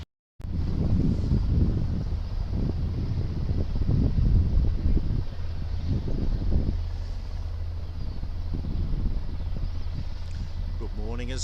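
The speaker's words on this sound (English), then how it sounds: "Sounds like we've got another chopper." A helicopter hovering near Aberdeen airport gives a steady low rumble with strong low-pitched tonal bands, continuous and fairly loud throughout, mixed with wind buffeting on the microphone.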